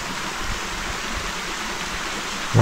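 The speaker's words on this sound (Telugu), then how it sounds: "ఇక్కడ ఇట్లే ఇంకొక వాటర్ఫాల్ డౌన్లో ఉంది" A forest waterfall near Sakleshpur in the Western Ghats of Karnataka pours in a continuous, even rush of water, heard alone with no talk.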